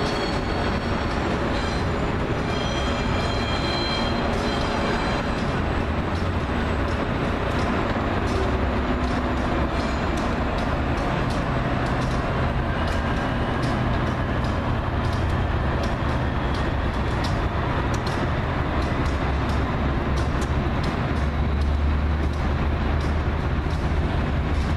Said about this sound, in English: there's an Acela leaving